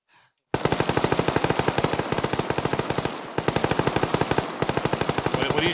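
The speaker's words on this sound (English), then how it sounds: "What are you shooting at?" Machine gun fire in the ArmA 3 military game, long rapid bursts of evenly spaced shots with two brief pauses, loud and close, following a moment of near silence.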